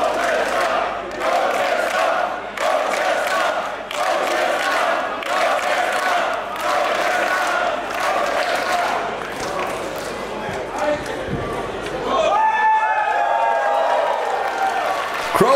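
A wrestling crowd roars and chants in rhythmic bursts behind a wrestler, loud and continuous, with a commentator talking over it and a sharp thud near the end.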